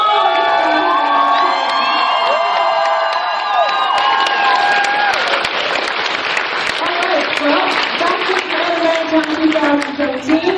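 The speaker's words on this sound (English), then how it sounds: "now I just have one huge round of applause for all of my staff" A large convention crowd at Animaritime 2017 bursts into sustained applause, cheering and whoops for the event staff, loud and continuous, with bright shouted voices rising over the clapping.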